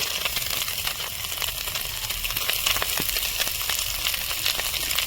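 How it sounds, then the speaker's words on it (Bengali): Fish sizzles steadily in hot oil, a dense crackling hiss with scattered sharper pops, close and fairly loud, with no talking. "আমার মাছটা হাফ ভাজানো হয়ে গেছে। এখন আমি পিসটা হাফ ভাজে নেব।"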